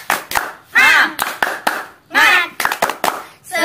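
Children clap out the Indonesian 'tepuk semangat' chant, sharp hand claps in a rhythmic pattern alternating with loud chanted voices, close and lively.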